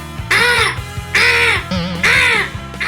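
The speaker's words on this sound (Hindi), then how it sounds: "रोशनदान में कौवा आ गया है।" A cartoon crow caws loudly at a ventilator window, three harsh drawn-out calls in close succession over a faint background music bed.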